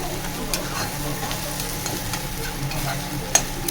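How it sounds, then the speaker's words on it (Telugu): Steady low sizzle of food frying in an iron pan over a low flame, with occasional soft stirring scrapes and a small clink near the end, no talking. "సిమ్లోనే పెట్టుకోండి, ఎందుకంటే మరీ బాగా వేగాలి కాబట్టి ఇది సిమ్లో పెట్టుకొని వేగనివ్వండి."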